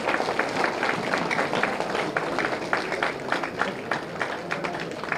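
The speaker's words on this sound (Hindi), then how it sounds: "तालियां मारो भाई" Crowd applause at a Maulana Abul Kalam Azad Jayanti celebration, a dense clapping wash with distinct individual claps standing out near the front, steady for several seconds with faint voices underneath.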